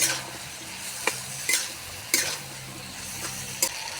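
Broad beans and potatoes stir-fried with ginger and cumin paste, salt and chilli powder: a steady oily sizzle with sharp scrapes and clinks of a spatula against the pan every second or so.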